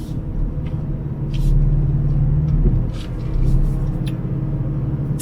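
A deep, steady engine drone rumbles from inside a moving BMW F82 M4, swelling gently in places, with faint higher clicks above.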